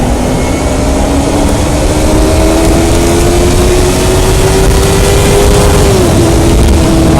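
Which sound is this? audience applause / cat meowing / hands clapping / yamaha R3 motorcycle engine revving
yamaha R3 motorcycle engine revving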